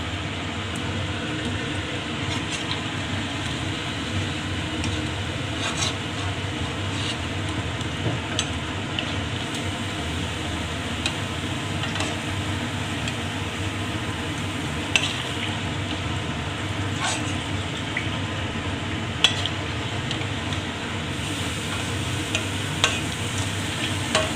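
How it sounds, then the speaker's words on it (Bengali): Steady oil frying of banana fritters with a continuous sizzle and occasional light clinks from utensils, moderately loud and close, with no voices. "কলার বড়া ভাজা হয়ে গেছে, লাল লাল হয়ে গেছে।"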